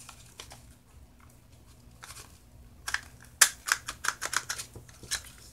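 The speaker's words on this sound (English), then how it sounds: "Maybe we'll use my corner punch." A paper corner punch clicking and cutting through paper for a journal purse, with a few faint taps followed by a cluster of sharp, close snips and clicks.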